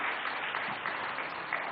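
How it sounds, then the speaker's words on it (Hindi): A studio audience applauds two special guests at a Hindi talk-show event, the dense, steady clapping filling the whole short stretch with no voices over it. "बहुत बहुत तालियां"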